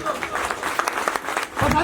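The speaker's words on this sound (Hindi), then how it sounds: "उनके लिए जोरदार ताली आप लोग" An audience at a school felicitation and prize distribution program claps for a guest walking onto the stage, scattered applause mixed with voices nearby.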